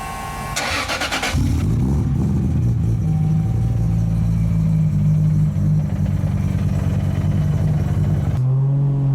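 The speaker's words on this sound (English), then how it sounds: "my first time ever turning on a Supra" A 1500HP Toyota Supra with a boosted 2JZ engine cranks briefly with a rapid starter chatter, then fires and settles into a loud, rumbling, lumpy idle before a sudden shift in tone near the end.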